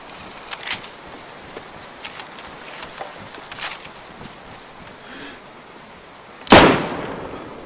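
A single loud, sharp gunshot from the video game DayZ on the Namalsk map cracks near the end, after several fainter, more distant shots and soft clicks over a low ambient background.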